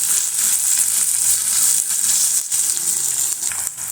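Vegetables sauté in a pan, a loud continuous hiss of frying with a few soft breaks as they are moved about.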